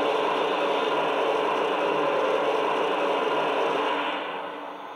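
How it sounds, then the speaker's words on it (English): A loud, steady steam blowdown hiss from a Lionel Legacy Frisco 4-8-4 Northern model steam locomotive roars continuously, then tapers off slightly toward the end. "Here's the steam blowdown sound."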